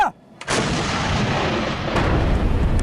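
A tank's artillery gun fires a shell in a single heavy blast, followed by a long, loud roaring rumble and a second thump near the end, with no talk over it.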